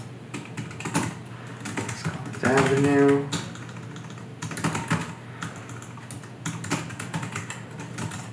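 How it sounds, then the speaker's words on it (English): Typing on a keyboard or touchscreen to enter an address for a job record, with quick clicky taps in short bursts and a brief mechanical whir, while someone talks over it. "I can start typing in the address."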